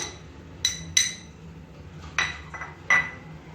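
A spoon clinks against a bowl while rice mixed with apples is stirred, a handful of sharp metallic taps and scrapes spaced irregularly over a quiet background, with no talking.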